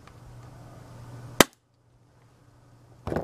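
A single sharp snap from an airsoft handgun test shot, loud and close, followed by quiet and then a brief burst of handling noise.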